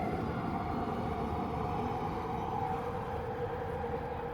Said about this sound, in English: I apologize for talking over the train